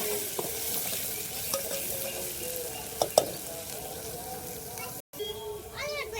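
Ginger-garlic paste sautéing with fried onions for a spicy village-style egg curry, a steady close sizzle with scraping stir strokes, a voice faintly in the background.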